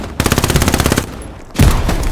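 Sustained machine gun fire in the World War II shooter Hell Let Loose, two loud rapid bursts of steady rhythmic shots, the first running over a second, a short lull, then a heavier second burst close by.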